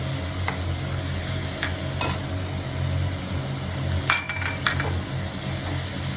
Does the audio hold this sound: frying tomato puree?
yes